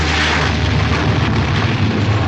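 A loud, dense explosion from a 1970s Mission: Impossible espionage TV episode, a sustained roaring boom filling the whole clip with rumbling, crackling blast noise and no talk.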